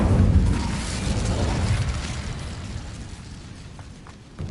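A fire spell cast in an anime witch video game, a broad roaring whoosh that swells loud at once and slowly fades over several seconds, with a small pop at the very end.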